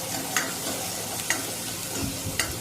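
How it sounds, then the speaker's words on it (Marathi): Onion sautéing in a pan for besan, a steady sizzle with periodic spoon scrapes and stirring clicks spaced about a second apart, close and moderately loud, with no voices. "आता आपण कांदा परतवत आहात."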